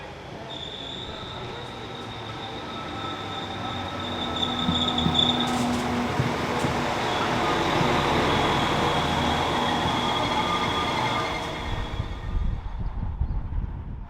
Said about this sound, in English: the one on the opposite side is the next train to Hereford